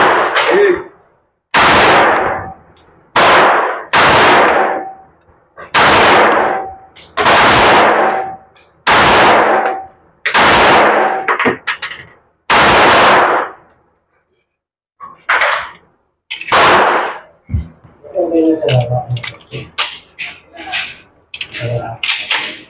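Gunfire at an outdoor shooting range: about a dozen loud, sharp shots, each trailing a short echo, spaced unevenly with brief pauses, followed by a few more shots and some clanking handling noise at the end.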